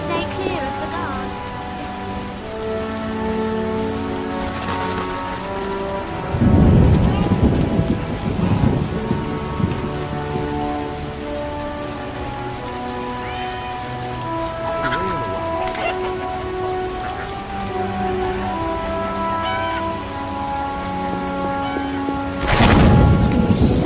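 Steady rain falls in The Witcher game world, with rolling thunder crashing in bursts. Music and occasional voices sit over the continuous hiss.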